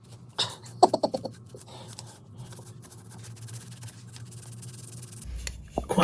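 The back of a knife scrapes road-salt crust and grime off a Triumph Explorer 1200 rear wheel, making quick, close rasping strokes and a few sharp ticks in an otherwise quiet space.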